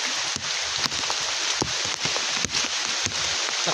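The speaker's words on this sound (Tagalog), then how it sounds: "Lakas ng ulan, lakas ng hangin." Heavy rain and gusting wind lash a mountain spot during a typhoon, a dense wash of noise broken by sharp drop-like hits and thumps, probably on a surface or tarpaulin close by.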